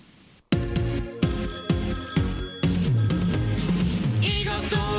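A telephone rings repeatedly for a call-in segment at a church youth service, loud bell bursts in a steady rhythm with no talking.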